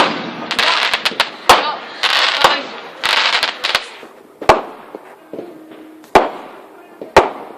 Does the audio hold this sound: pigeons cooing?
no